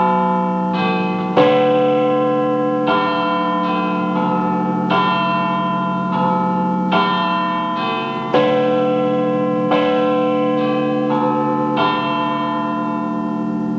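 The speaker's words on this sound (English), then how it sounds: "the magic sound of Big Ben." Big Ben's bells at Westminster ring loud and close, deep resonant strikes repeating in a slow, regular pattern, each one leaving a long humming decay.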